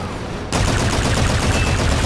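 A long, continuous burst of AK rifle fire from a video game, with rapid, dense shots filling the whole clip after a short quieter lead-in. The gunfire is loud and close, and no one speaks over it.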